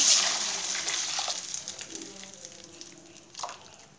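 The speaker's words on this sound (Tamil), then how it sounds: "இப்போ அதுலேயே நம்ம தக்காளி அரைச்சி வச்சுருக்கோம் மிக்சியில், அதை நான் ஊற்றிக்கிறேன்" Blended tomato poured from a mixer jar into a pot for Tamil tomato rasam, a steady close liquid gush that thins out, with a brief splash near the end.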